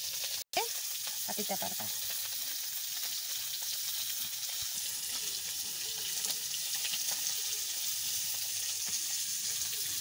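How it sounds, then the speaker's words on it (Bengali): Fish frying in a pan gives a steady, loud sizzle that runs unbroken throughout, with a brief clatter near the start and someone speaking softly over it. "আমার এদিকে মাছ ভাজা কমপ্লিট হতে গেছে।"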